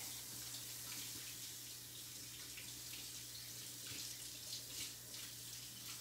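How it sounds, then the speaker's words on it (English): Hands being washed under a running kitchen tap, a steady broadband rush of water that continues alone without pause and with no voices. "I am going to wash my hands"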